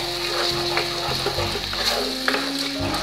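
Paneer curry with yogurt stirred in a hot pan, giving a steady close sizzle and soft frying crackle with occasional scraping stirs over a low background hum.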